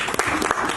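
A brief burst of audience applause greets a presenter at a sustainable city summit, dense clapping heard only for a moment.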